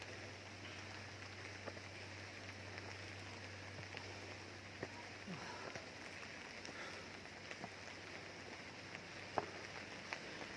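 Rain falls outdoors near a shrine by the Yamuna river, a steady soft hiss with occasional louder drops and taps, no voices.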